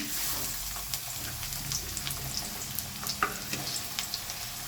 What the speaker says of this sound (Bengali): আমার কড়াইয়ের মধ্যে তেলটা গরম হয়ে গেছে আমি কড়াইয়ের মধ্যে আমি পেঁয়াজ কচুনটা দিয়ে দেবো